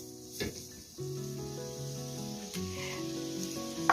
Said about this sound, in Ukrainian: Натертий бурячок будемо протушковувати.